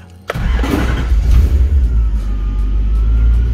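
A Lexus IS200 fitted with a V8, just back from fuel pump work, cranks with a sharp starter burst and catches at once, settling into a loud, deep, rumbling idle close by.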